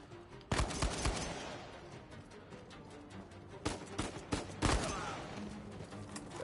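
Scattered gunfire in the video game Uncharted 4, several sharp shots and short bursts spread unevenly across the stretch, moderately distant, with quieter gaps of background noise between them.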